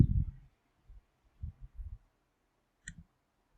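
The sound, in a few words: computer mouse clicking in SPSS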